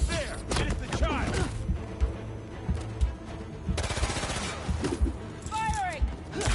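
Rapid gunfire bursts and shots in Marvel's Spider-Man 2, dense and loud with game effects and music, while voices talk over the action.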